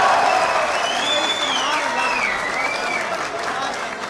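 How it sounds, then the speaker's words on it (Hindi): A crowd at an Urdu poetry recital bursts into sustained applause, with loud, continuous clapping and shrill whistles rising and falling above it. "आपके लिए बहुत सी तालियां यार"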